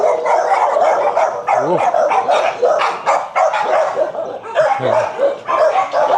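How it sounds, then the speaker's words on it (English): Several tied-up dogs barking continuously and loudly close by during a morning walk through a residential subdivision in Quezon City, Philippines, with brief exclamations from a man partway through. "Dogs. Okay, they are tied down."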